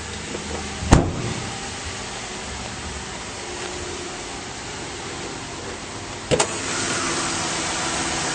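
The engine of a 2008 Mazda CX-9 Touring idles under an open hood, giving a steady, even broadband hum marked by two sharp clicks, one early and one late.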